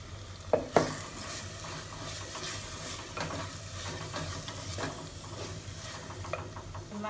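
Chili powder and curry leaves frying in oil in a pan for a Telugu seabass gravy, with steady close sizzling and stirring scrapes throughout plus a couple of sharper clinks near the start.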